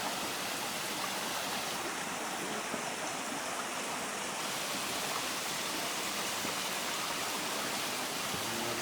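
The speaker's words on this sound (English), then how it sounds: "So that's it from Pomola Stream." Pomola Stream in Baxter State Park, Maine, rushing steadily over rocks, a continuous close wash of flowing water with no voices.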